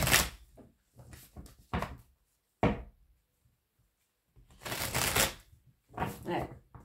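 Oracle mirror cards get shuffled by hand in several close, papery riffling bursts separated by short pauses, with no one speaking.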